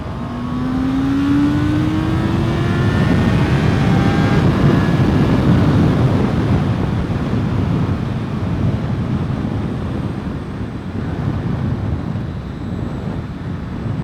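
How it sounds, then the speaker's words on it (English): A 2024 Honda CBR650R motorcycle is ridden at highway speed, its engine pitch climbing early on and then settling into a steady loud roar under heavy wind rush, with no talking. "I'm just going to kind of get up to speed here and let you all hear the bike"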